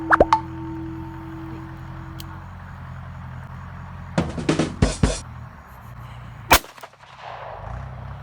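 Revolver gunshots at an outdoor shooting range, several sharp loud cracks in quick bursts with pauses between them, standing out over a low steady background hum.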